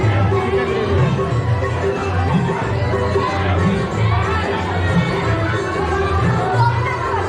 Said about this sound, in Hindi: भीड़ देख लो एक बार